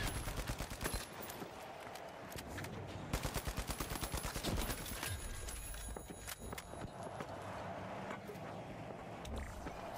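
AK rifle fire in The Finals, rapid automatic bursts of sharp cracks coming in long strings, loud and dense with other game noise continuing throughout.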